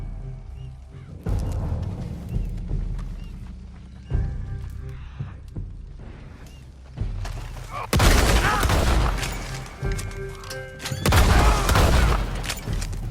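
Red Dead Redemption 2 western shootout: sporadic sharp gunshots and booms, with a loud, heavy volley of fire building in the second half amid other game noises.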